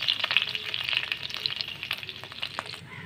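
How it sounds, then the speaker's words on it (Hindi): Crushed garlic fries lightly in hot oil for chicken spaghetti, giving a steady, close crackling sizzle with small spitting pops throughout, alone and without any voices. "क्रश करे हुए जो लहसुन आपके सामने लिए थे हम इसको हल्का सा सोते करेंगे, इस तरह से हल्का सा फ्राई भी करेंगे"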